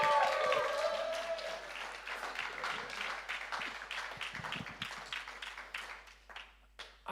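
An audience applauds a poet at a live poetry jam, dense clapping from many hands that starts full and thins out over several seconds into scattered claps, with a few voices mixed in.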